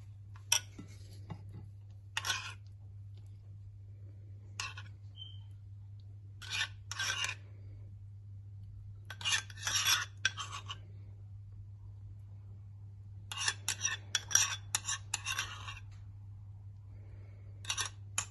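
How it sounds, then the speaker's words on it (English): Chickpea and potato chana chaat mixture being stirred, short scraping rasps of a spoon against a bowl in irregular bursts over a steady low hum, fairly close and alone. "इसको अच्छी तरह मिक्स कर लें."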